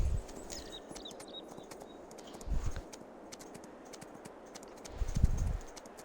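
A ridden horse's hooves clip-clop at a walking pace in Farming Simulator 22, faint regular thuds over a quiet background with a couple of louder bumps.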